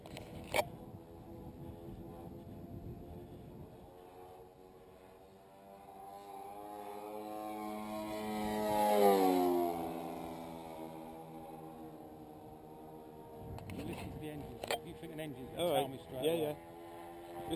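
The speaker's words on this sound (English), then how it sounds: "You'll soon know if one of the engines starts to fade out." Model Mosquito aircraft engines drone in flight, a steady harmonic hum that swells into a loud pass near the middle with a falling pitch sweep as the plane flies by, with people talking over it at the start and end.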